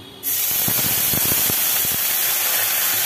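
Water poured into a pan of hot oil with dried red chillies and nigella seeds sets off an abrupt, loud, sustained sizzling hiss with brief popping crackles, close and steady for several seconds.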